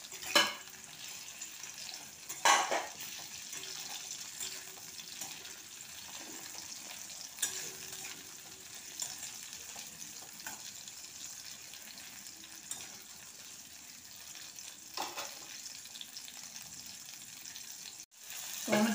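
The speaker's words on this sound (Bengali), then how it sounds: "টমেটোটা গলে গেছে আর আমটাও ভালো সেদ্ধ ভাজা হয়ে গেছে" Mango pieces and half a tomato with a green chilli fry in oil in a pan, giving a soft continuous sizzle with occasional louder stirring clatters and scrapes, with no talking.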